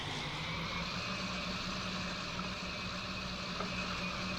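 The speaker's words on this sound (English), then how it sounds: "Engine sounds good." John Deere 40-Series tractor engine in a farming simulator game: a steady, even mid-pitched drone with faint tonal hum, constant and unbroken throughout, heard alone without talk.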